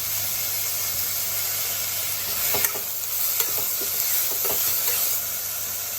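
Tomatoes and onions sauté in a pan for dal khichdi, giving a steady loud hissing sizzle with a cluster of scraping stirs in the middle before the frying carries on alone.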